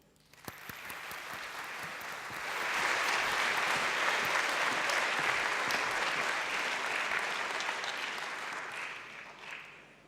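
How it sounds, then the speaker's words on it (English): Sustained audience applause at an international nursing congress in Ljubljana, Slovenia, greeting a flag ceremony; it swells after a couple of seconds into a steady, dense roar of many hands and then eases slightly toward the end. "a big applause for the flag ceremony"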